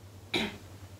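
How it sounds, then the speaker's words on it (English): One short, close cough, a quick harsh burst standing out over a low steady hum in an otherwise quiet room. "I know that cough was like indicating"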